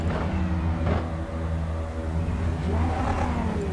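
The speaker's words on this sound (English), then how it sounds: "we'll hear the cars fire up really loud" Race cars in the iRacing sim at Monza roar to life together, a loud, continuous layered engine drone with rising revs and harmonic whine throughout, no voices over it.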